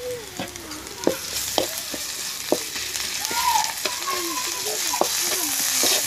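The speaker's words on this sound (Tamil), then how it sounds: "எண்ணெயிலேயே பொரிச்சாதான் மிளகாயோட காரத்தன்மை போகும்" Chillies frying in hot oil, a loud continuous sizzle with repeated spoon scrapes and clinks of stirring throughout, close by, with faint bird calls in the background.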